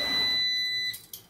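A kitchen appliance gives a shrill, steady electronic beep that holds for about a second, while cooking is under way for hot wings, and then gives way to faint clatter.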